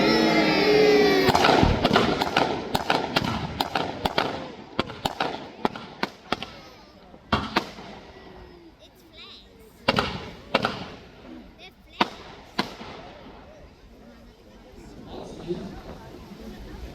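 Pyrotechnic deck gun blasts from a model submarine during a staged naval battle show on a lake in Peasholm Park, Scarborough: a rapid string of sharp booms, then scattered louder bangs over crowd noise and commentary.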